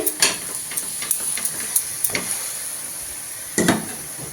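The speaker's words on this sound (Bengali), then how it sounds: "এই যে আমি এখানে পরোটা ভাজছি, আর এই যে ভাজা হয়ে গেছে এখানটায়।" Soft sizzling of a paratha frying in a pan, broken by several sharp taps and scrapes of a spatula, close by with no talking.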